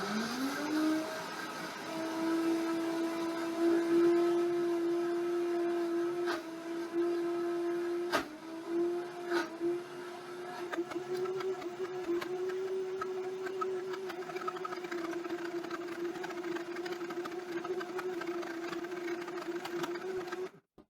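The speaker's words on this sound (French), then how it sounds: "Et on va blender tout ça." A blender whirs steadily as it mixes chocolate macaron cream with vanilla, spinning up at the start and then holding a sustained motor whine with a few small dips before cutting off at the end.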